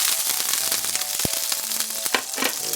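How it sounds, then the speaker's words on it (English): Homemade clarified butter crackles and sizzles in a hot pan for Chicken Korma, a dense steady frying hiss with a few sharp pops, close and continuous, with no talking. "I'm adding some clarified butter that I made."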